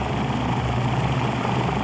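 The Military Police Águia rescue helicopter drones steadily with a loud, continuous rotor and engine roar at a plane crash site, with no voices.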